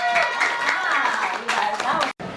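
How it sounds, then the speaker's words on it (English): A crowd at an outdoor historical reenactment claps and cheers, a brief burst of applause mixed with loud overlapping voices and talk, close by, cutting off abruptly near the end. "Let's give these guys a round of applause"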